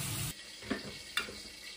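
Water being poured out of a bowl holding yellow croaker fish, a brief gush that stops abruptly, followed by two faint splashes, close and fairly quiet.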